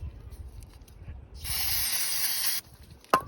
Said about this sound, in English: let me spray this